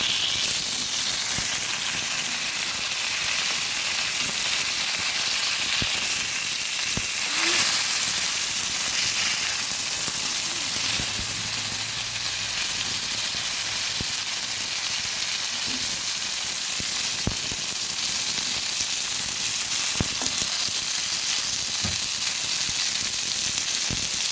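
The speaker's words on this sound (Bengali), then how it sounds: "মাছগুলো ভাজা হয়ে গেছে এক এক করে তুলে নেব" Fish pieces fry in hot oil, giving a loud, dense, continuous sizzle and hiss that stays steady for the whole stretch, with occasional faint clinks, close to the pan and without speech.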